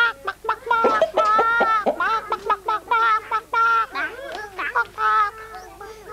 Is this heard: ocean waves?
no